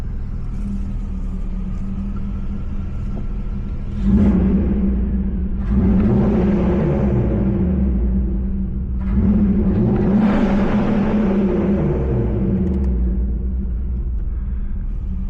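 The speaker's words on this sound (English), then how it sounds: "give you guys a couple revs before I leave the garage" An E36 BMW M3 engine with a Corsa cat-back exhaust and stock headers idles with a steady low rumble in a garage, then revs up twice in strong surges that rise and fall back to idle, loud and close.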